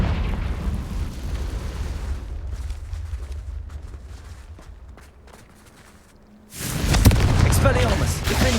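In Hogwarts Legacy, a Confringo blasting spell detonates with a loud explosive burst late in the clip, following quieter combat rumble and a brief spoken voice.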